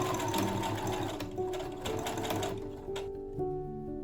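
Sewing machine stitching a fabric petticoat, a fast steady mechanical whirr with rhythmic needle clatter, close and continuous, ending in a slowing final stretch.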